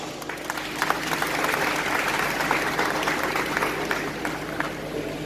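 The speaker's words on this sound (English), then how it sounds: "please can we give another round of applause for the TGMAN President, Ambassador Saidi Paloma" An audience at an artiste night and burial gathering applauds, a steady wash of many hands clapping at moderate distance that holds evenly throughout, with a faint murmur of voices beneath.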